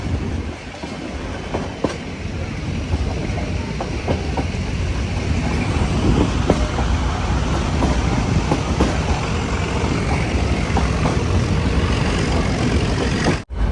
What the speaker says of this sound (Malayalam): 10:40 കൂനൂരിൽ നിന്ന് ഇതാ ട്രെയിൻ എടുത്തിരിക്കുകയാണ്